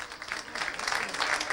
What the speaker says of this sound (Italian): Brucculeri che riceve l'applauso della gradinata